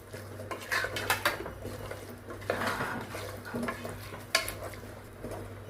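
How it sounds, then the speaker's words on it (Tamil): A prawn biryani mixture being stirred in a pot, with a spoon scraping and clinking against the metal over a soft sizzle, in steady uneven strokes, close and fairly quiet. "நல்லா இதை நான் இப்போ மிக்ஸ் பண்ணி விட்டுக்கிறேன்."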